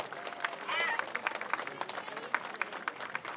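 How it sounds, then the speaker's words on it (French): A crowd at a French cycling Grand Prix applauds the race winner with scattered, light clapping and some cheering, fairly distant and under an announcer's voice over a public address. "Merci d'applaudir le vainqueur de cette 79e édition, Olaf Koy."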